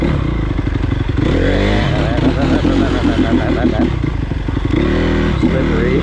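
Honda CRF250R dirt bike engine on a trail, its loud, uneven sputtering putter running steadily throughout and close by, with talk mixed in over the engine.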